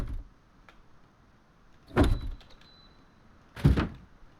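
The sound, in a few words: garage door being placed in video game Rust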